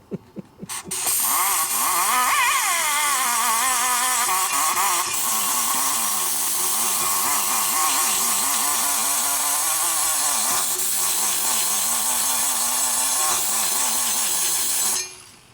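A modified angle grinder with its guards removed whines at high speed during a rebuild of a 1979 Harley shovelhead 80ci motor. It starts abruptly, then grinds loudly and continuously with wavering pitch as it bites into metal before cutting off.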